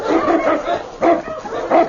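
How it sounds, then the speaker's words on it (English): Sled dogs barking in a snowy Yukon trail scene of a 1950 radio drama, a few loud yips and barks in short bursts close by, with no talk over them. "The dogs threw their weight into the harness, and the sleds moved easily on their iced runners."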